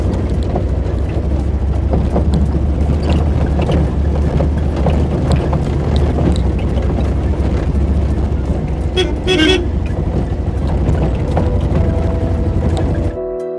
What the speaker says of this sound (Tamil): அதனால் நம்ம வண்டி ரிவர்ஸில் போயிட்டுருக்கு